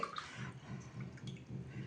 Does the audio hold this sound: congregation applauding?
no